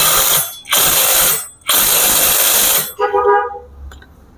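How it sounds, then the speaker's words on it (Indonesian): Impact wrench tightening a nut on a Yamaha Mio Soul motorcycle, two long loud bursts of rattling hammering, then a shorter stuttering burst that tapers off, close up with no talking. "Kemudian kita kencangkan dengan impact."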